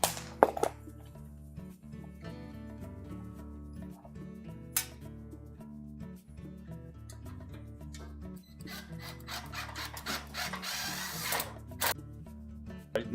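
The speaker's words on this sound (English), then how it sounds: "Tighten the retaining screw." Power drill driving the retaining screw on a GE dryer heater assembly, a whirring motor with stops and starts and a brief rasp of the bit, close and steady, with no talk.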